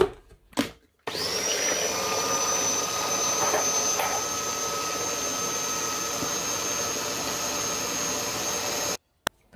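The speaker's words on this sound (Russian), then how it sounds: "Поэтому я вот сюда в измельчитель потихонечку добавляю. И тоже буду измельчать." An electric food chopper blending onion with tomato paste runs as a loud, steady high whine for about eight seconds, preceded by short clicks and ending in a sudden stop.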